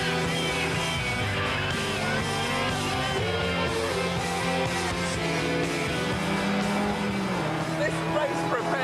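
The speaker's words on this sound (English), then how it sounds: "This race-prepared Type R Honda Integra has been rushing around the circuits of Europe" A race-prepared Honda Integra Type R circuit car drives on a track, its engine note droning steadily and loud throughout with a brief tyre squeal or rev change near the end.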